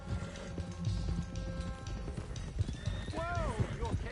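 Horses clip-clop along in the video game Red Dead Redemption 2, a steady run of hoof beats with a whinny near the end, heard under game sounds.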